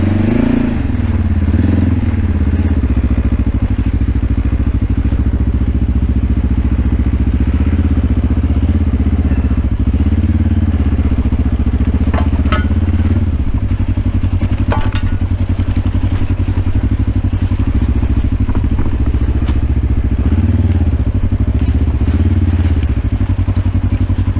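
A motorcycle riding on new Mitas E07+ Dakar tires, with a constant loud engine drone and rumble, steady throughout, plus crackling and clattering from the road surface.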